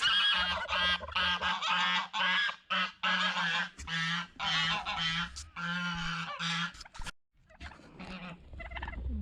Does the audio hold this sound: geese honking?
yes